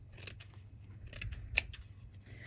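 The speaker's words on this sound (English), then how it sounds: "you can just use a pair of scissors" Quiet snipping of scissors cutting through soft fabric batting, with a few faint crisp snips and one sharper click.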